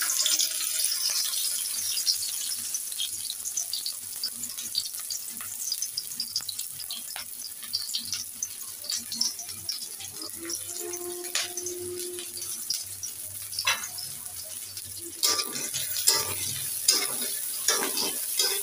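Chopped onions frying in a home kitchen pan, a steady soft sizzle and crackle running throughout with occasional stirring scrapes and clinks, fairly close and alone without talk.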